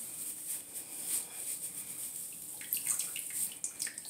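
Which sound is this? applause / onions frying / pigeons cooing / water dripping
water dripping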